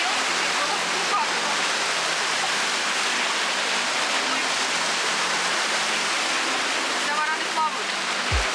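Sea waves on Koh Larn island beach surge and break on rocks in a continuous loud roaring wash, close by, with faint voices under the surf.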